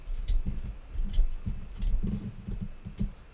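Scissors snip through quilt fabric being cut in half for a quilt backing, a series of close, crisp cuts arriving in an uneven rhythm.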